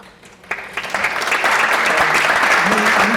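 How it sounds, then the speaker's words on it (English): Audience at a distinguished speaker event breaking into applause, starting sparse and quickly swelling into steady, full clapping from a large crowd. "Applaud yourself for being here."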